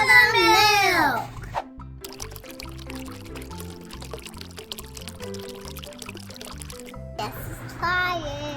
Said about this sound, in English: Pour the milk.